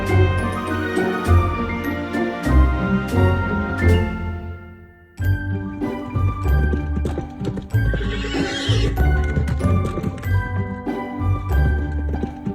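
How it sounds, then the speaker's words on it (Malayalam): A horse neighs loudly and close by while its hooves clip-clop steadily alongside a light jingle of tack, with a brief lull in the middle before the hoofbeats and jingling resume. "horse."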